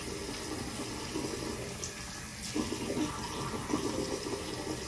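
Water runs from a sink tap for wetting thick natural hair, a quiet, steady hiss of flow with slight surges and splashing changes as hands move under it.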